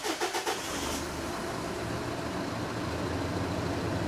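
A 2005 Jeep Cherokee 2.8 CRD diesel restarting: a brief cranking rhythm for about half a second, then the engine catches and settles into a steady, moderately quiet idle.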